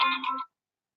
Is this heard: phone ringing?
yes